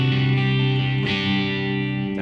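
Sustained guitar chords ring out through distortion and chorus-style effects, a thick, loud wash with a chord change around the midpoint and no talking over it.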